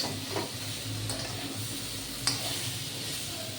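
Small mourola fish fry in oil in a pan, giving a steady soft sizzle and hiss with a brief metallic clink partway through.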